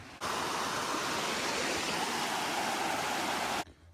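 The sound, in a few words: Chapel Creek stream flowing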